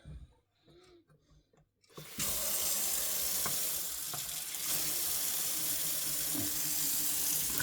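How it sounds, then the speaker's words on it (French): Water runs steadily through a Teknix 512 cylinder, starting abruptly after a few faint knocks and then rushing loud and continuous like a filling sink, with small clicks on top. "L'eau elle coule bien dedans."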